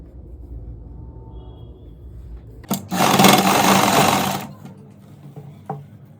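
A sewing machine stitches elastic into palazzo pants, running in one loud, steady burst of about two seconds after a stretch of quiet handling noise.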